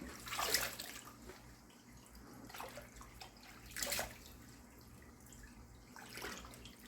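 Water running and splashing as a cutting board of rinsed chicken livers is tilted to drain in a kitchen sink, a few brief pours over a steady faint background hum.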